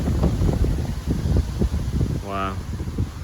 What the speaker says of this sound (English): Sorry, I can't hear you. It's a bit windy.